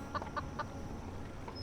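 Clucking chicken in the game Foolish Mortals, drawn by corn scattered on a path: three quick clucks close together near the start, then a single softer one, over steady low background ambience.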